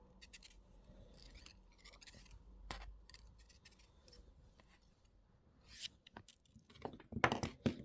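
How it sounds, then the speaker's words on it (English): Small cutters snipping the wire tail off a wire-wrap pendant, faint and close, with scattered light clicks and rubbing and a few sharper snips toward the end. "I'm just going to cut that tail end off from the beginning"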